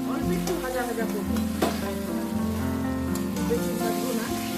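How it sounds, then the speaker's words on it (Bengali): Chicken pieces for a coriander chicken curry fry in a pan, a steady close sizzle broken by scraping stirs and clinks of the spatula, with faint voice sounds in the background. "অল্প করে নাড়াচাড়া করে অল্প একটু ভাজা ভাজা করবো"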